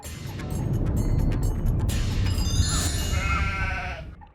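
A goat bleats in a comedy scene, a wavering, nasal cry that rises after a short rustle and fades out at the end, fairly close and clear.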